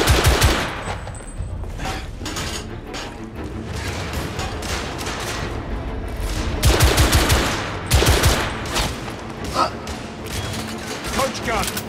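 Rapid sustained gunfire in The Order: 1886, a video game set in an alternate 1886, with dense automatic bursts and heavy shots crowding the scene and loud throughout, voices talking underneath.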